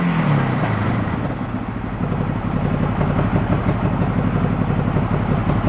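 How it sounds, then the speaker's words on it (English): A 1971 Honda CB350 barn-find motorcycle idles steadily at about 1100 RPM close by, a continuous low, even engine rumble running alone throughout. "Let it warm up a little bit. She's running at about 1100 RPM, something like that."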